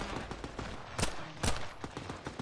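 Gunfire in the video game Phantom Line: two sharp, loud shots stand out among a steady run of quicker, lighter pops and bursts of combat noise.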